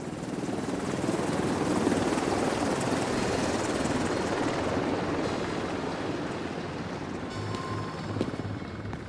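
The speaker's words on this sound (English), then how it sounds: "The agents waste no time and jump into a helicopter destined for the site." Helicopter in flight in The Division, a loud steady rotor roar with dense broadband rumble that holds throughout, close and continuous, with faint electronic tones near the end and no talking.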